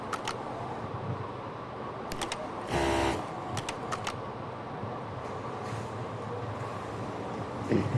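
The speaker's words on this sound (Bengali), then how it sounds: "এখন আমরা মেশিনটা চালিয়ে নিচ্ছি" A Jack A3 sewing machine runs at high speed, set to 4000 RPM, giving a steady mechanical whir with a brief louder surge of stitching and a few faint clicks.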